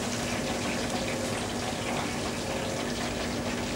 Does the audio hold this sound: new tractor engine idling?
no